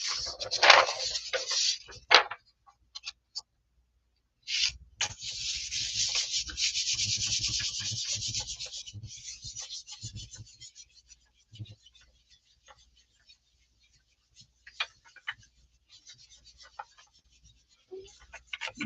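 Paper rubbed by hand onto a gelli plate print, close dry scratchy rubbing strokes in two main bursts, then scattered light taps and brushes.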